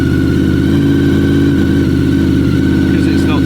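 Motorcycle engine running just after a cold start with the choke on full, a loud, close, steady mid-pitched idle throb that stays even, with a voice faintly under it near the end.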